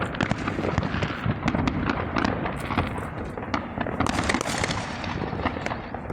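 New Year fireworks and firecrackers crackle and pop densely across a South Texas neighborhood, a continuous barrage of rapid bursts at middle distance with no pause.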